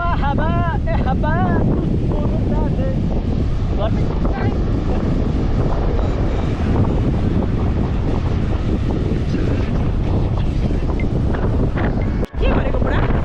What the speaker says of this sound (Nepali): हावाको स्थिति यस्तो छ